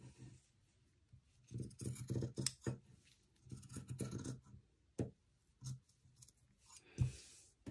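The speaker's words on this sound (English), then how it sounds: "I will show you how I carefully cut out this detail" Scissors snip carefully around a fabric pattern detail while making a sports ball pillow, in short bursts of close, crisp cutting and rustling separated by brief pauses.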